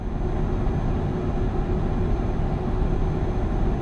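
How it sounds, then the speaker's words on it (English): A heavy truck engine in Euro Truck Simulator 2 drones steadily with a deep, dense low rumble, loud and unbroken throughout, with no voices. "the sound of the engine is just killing the other sounds"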